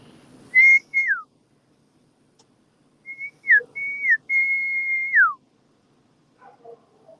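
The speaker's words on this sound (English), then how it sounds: "wonder if they come up for a whistle." A person whistles to call horses on a rescue property, giving two short rising-falling whistles and then a longer sustained whistle that ends in a downward slide, loud and close against near silence.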